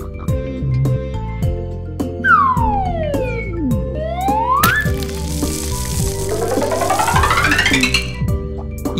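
A red cartoon fire truck siren from a children's vehicle-learning animation: sweeping up-and-down wails, loud and close, layered over bouncy music and clattering effects.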